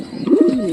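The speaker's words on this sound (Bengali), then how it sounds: "আর এদিকে তো এই কবুতরগুলো তো মানে বাসা তো পরিষ্কার করে দিচ্ছে" A pigeon coos once, close and loud, a short throaty rolling call that swells and then fades into a low hum.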